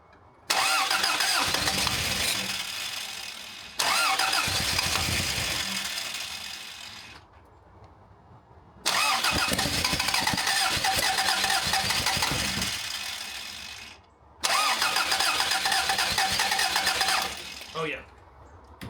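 An engine cranks and starts after its battery connections were improved, with long loud bursts of cranking and running separated by brief pauses, with tools and a workshop setting nearby.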